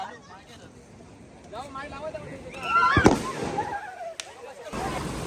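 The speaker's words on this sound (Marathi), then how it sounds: "बॉम्ब टाका टम बॉम्ब" Firecrackers go off during a Ganpati immersion procession, with one loud crack midway and a lighter pop soon after, set against a crowd of voices and background chatter.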